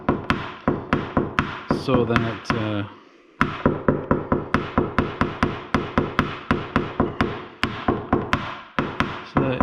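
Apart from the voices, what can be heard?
tapping down dent edges on car panel, paintless dent repair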